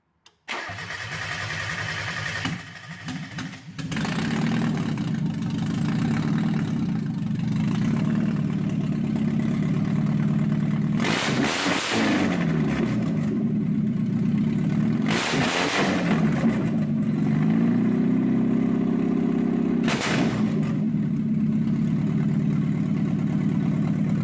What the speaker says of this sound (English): Open header Miata, open dump, because why not?